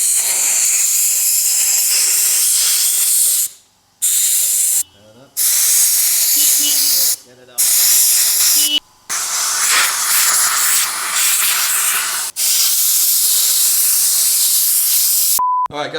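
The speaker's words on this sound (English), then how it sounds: "This particular one obviously squirts air out from the sides and from the front." Compressed air bursts from a nozzle while fitting motorcycle grips: loud, steady hissing blasts repeated several times, broken by short pauses, close up.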